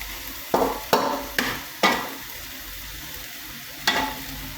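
Squash being stirred in a pan of mixed vegetables, with five sharp scraping strokes spaced irregularly over a low background sizzle, close and fairly loud, no talking.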